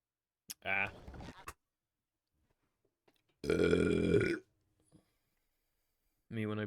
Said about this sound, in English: Me when I burp.